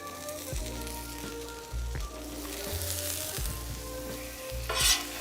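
Cajun sausage fries on a hot griddle, where fried rice is also cooking: a close, steady sizzle with rhythmic metal spatula scrapes and taps every second or so while the sausage is worked around.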